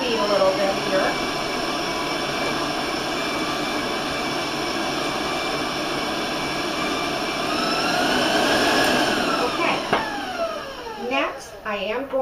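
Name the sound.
electric mixer beating cookie dough at raised speed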